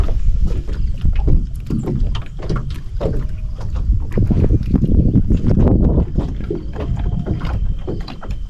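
A small one-person boat on clear water at a family campsite, with steady splashing and knocking from the hull mixed with wind buffeting across the whole stretch.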